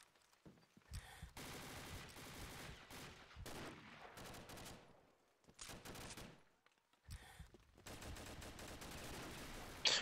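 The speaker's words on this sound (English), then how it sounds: "Nice shot, Tekken." Bursts of gunfire from the online shooter Combat Arms, with rapid automatic fire coming in several loud volleys separated by short pauses, plus a few single shots.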